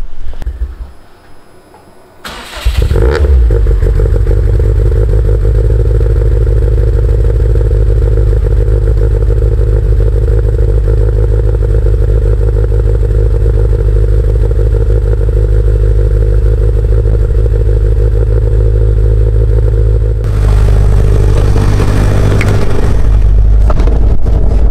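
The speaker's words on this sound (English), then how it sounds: "should we do cold start for the boys on the one that sounds good?" A race car engine cold-starts after a few seconds of quiet, catching with a loud burst and then settling into a steady, loud, rumbling idle for the rest of the clip, with a brief rev near the end and no talk.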